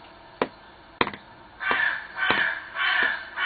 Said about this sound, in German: Die Krähe hat auch was dazu zu sagen.